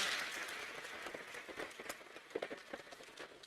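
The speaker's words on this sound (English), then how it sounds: "Please give her a clap." Scattered applause from a crowd at a Kenyan national strategy launch event, a dense patter of claps that thins out toward the end.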